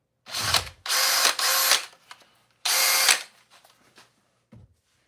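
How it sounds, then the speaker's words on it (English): An old Craftsman power drill in drill mode at speed 2 whirs loudly and close in three separate bursts, the first two nearly back to back and the third after a short pause, followed by faint clicks. "Try it with the old Craftsman."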